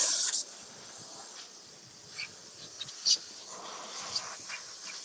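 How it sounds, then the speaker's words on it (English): A steam cleaner puffs out the last of its steam while cleaning a car: a faint, airy hiss with a brief sharper burst at the start and a few short spurts, no voices. "Let's see if there's any steam left. Oh, you can steam it."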